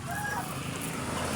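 Breeding chickens clucking in a backyard, a close burst of loud clucks over background farm noise.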